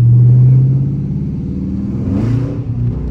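Dodge Charger RT driving through a snowy blizzard, heard from inside as a loud low engine rumble that eases after the first second, then a rising rev near the end.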